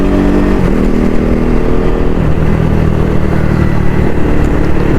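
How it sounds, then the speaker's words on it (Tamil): A KTM Duke 250 Gen 3 motorcycle with a modified exhaust rides along a road, its engine droning loud and close with a steady mid-pitched rumble and slight throttle swells throughout, no voices. "நம்ம பைக்கோட எக்ஸாஸ்ட் ரோடு உங்களுக்கு எப்படி கேட்குதுன்னு பாருங்கள்."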